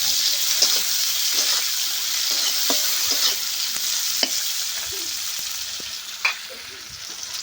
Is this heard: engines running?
no